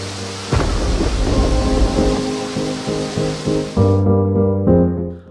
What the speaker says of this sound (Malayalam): ദമാമിലും റിയാദിലും ഹായിലും ബുറൈദയിലുമെല്ലാം ഇടിവെട്ടിയത് പെയ്തു.